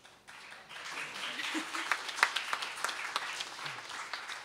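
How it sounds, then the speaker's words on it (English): Graduation audience clapping at a law school ceremony, a continuous patter of many hands with a few louder claps standing out, moderately loud and steady. "let's enjoy the opportunity to clap in front of your friends and mates and the faculty and administration"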